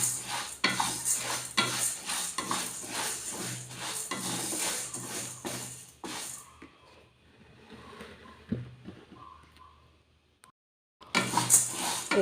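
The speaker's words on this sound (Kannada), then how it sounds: "ಈ ರೀತಿ ಹೆಸರು ಕಾಳನ್ನ ಬಿಸಿ ಮಾಡ್ಕೊತಾ ಇದ್ದೀನಿ." Green gram dry-roasting in a pan, with a spatula scraping and stirring in close repeated strokes for several seconds, a quieter pause, then more scraping.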